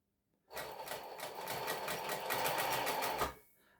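A Singer 20U sewing machine stitching at a steady pace, with a fast, even mechanical whir that runs close and alone for almost three seconds before stopping abruptly.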